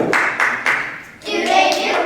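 Hands clap out a rhythm at a first-grade music program: three sharp claps in a row, a pause, then a denser flurry of claps from several people, fairly close.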